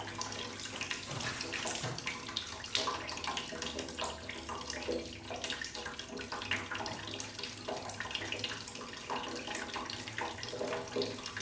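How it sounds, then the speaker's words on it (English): Water flushes steadily out of a 2006 Yamaha R6 motorcycle, a continuous hissing, splashing rush like a running tap that holds constant at moderate volume throughout, with no voices. "So this will allow us to flush it a little bit, get the water out of the bike"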